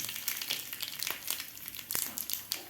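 Mustard seeds and curry leaves sizzling in hot oil in a small tadka pan, a faint crackling fry with scattered sharp pops and spits, quiet and close, with no talking.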